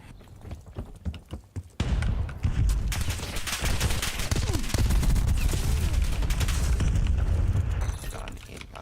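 Rapid automatic gunfire rattles loud and close in Call of Duty: United Offensive, a few scattered shots first and then a sustained burst of overlapping fire with booms mixed in that runs for several seconds before tapering off.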